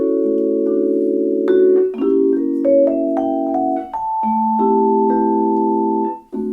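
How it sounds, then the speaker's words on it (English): A sustained jazz chord voicing with melody from the second bar of a song, built around a famous diminished chord, played as held keyboard-like tones that shift every second or so, loud and alone. "a song that has one of the most famous diminished chords in the jazz repertoire"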